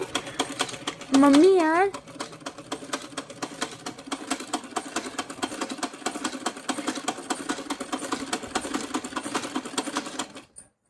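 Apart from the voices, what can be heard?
sewing machine stitching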